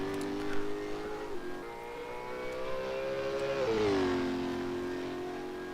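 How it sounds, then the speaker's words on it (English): A Velocity Supercars race car with an engine problem at Melbourne, its motor droning and changing pitch as it rises and falls in revs, with a couple of abrupt shifts, heard at moderate distance without talk. "It didn't sound like that car was operating nearly as well."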